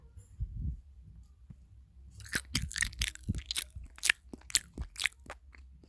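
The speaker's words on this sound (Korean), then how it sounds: "먼저 하나를 먹어볼게요 한 번만 먹어볼게요 한 입만" Crunchy bites of food eaten close to the microphone for ASMR, a quiet low murmur followed by a run of sharp, crisp crunches in an uneven chewing rhythm.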